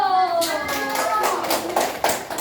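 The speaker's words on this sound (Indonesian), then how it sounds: "Tepuk tangan dulu" Fourth-grade primary school class clapping hands in several sharp, spaced claps, coming in after a lingering voice and growing more distinct toward the end.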